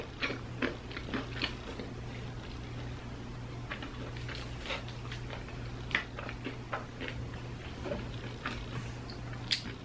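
Crispy fast food being chewed and bitten up close during an eating show, with faint crunchy clicks and soft mouth noises scattered over a steady low hum, quiet overall and no talking.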